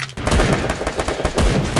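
Gunfire at a shooting range in a video game, rapid, dense bursts of loud shots crackling almost continuously with brief uneven gaps.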